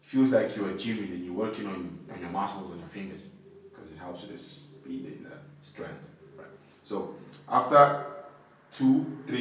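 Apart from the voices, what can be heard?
None of the usual background noises is heard.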